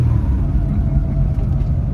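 A Ferrari-engined Alfa Romeo 105 driving along, a steady low engine rumble and road drone heard from inside the car, loud and continuous with no clear revving.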